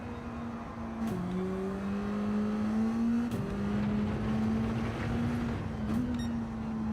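Engine of a rally car in the WRC racing game revving steadily, a loud continuous drone whose pitch dips and climbs as the throttle shifts, with occasional sharp clicks.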